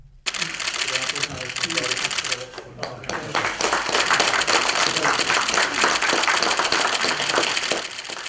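Saenuri Party leadership applauds outgoing floor leader Lee Han-koo at an indoor meeting, with steady, dense clapping from a small group that carries on loudly almost to the end.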